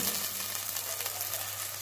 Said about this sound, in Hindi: इसे भी हम साथ ही भून लेंगे प्याजों को